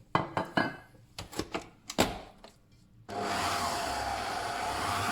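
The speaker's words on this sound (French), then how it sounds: "vous ajoutez la poudre d'amande et vous remettez le batteur gentiment" An electric hand mixer beating butter with almond powder for a galette des rois filling starts after a few dry knocks and scrapes, then runs as a steady, loud whirring drone through the last two seconds.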